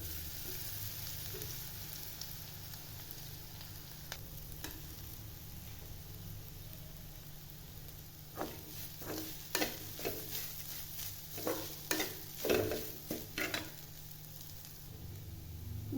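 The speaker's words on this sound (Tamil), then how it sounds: "கொப்பரை தேங்காய் ஒரு கால் மூடி நல்லா இதை வறுத்து எடுத்துக்கலாம்" Copra coconut pieces dry-roasted and stirred in a pan for garlic podi: a low steady hiss with a background hum, then a run of sharp scraping and rattling stirring strokes in the latter half, close up, with no talking.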